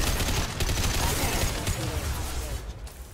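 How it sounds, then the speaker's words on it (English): Rapid gunfire from a gun in Mass Effect 2, fast trigger pulls blurring into a dense, heavy barrage, close and fairly loud, with voices faintly underneath. "they weren't counting on someone being able to pull the trigger this rapidly on this gun"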